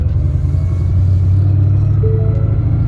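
A Mustang fitted with a Ben Calimer Stage 3 Gen 3 transmission drives along, a loud steady engine and drivetrain drone from inside the car with a rising whine tone near the end.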